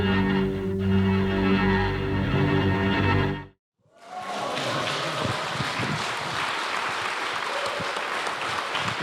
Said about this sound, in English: how about one more round of applause for David Howard Thornton